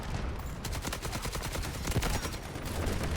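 Gunfire from an AKM in the Delta Force video game sounds as rapid automatic bursts, loud and dense across the whole span, with no clear speech.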